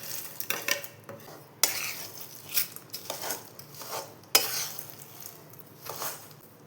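A spoon stirs besan burfi mixture with sugar and edible gum in a pan, giving soft repeated scraping and clinking strokes at close range, fairly quiet, with no talking.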